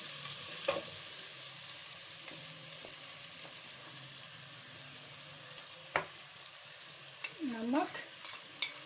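Tomatoes sauté in a pan with a steady soft sizzle, broken by a few stirring knocks and scrapes, plus a brief tonal squeak-like sweep near the end.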